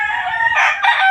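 A rooster crows loudly and close in one drawn-out call, rising in two bursts, among many chickens.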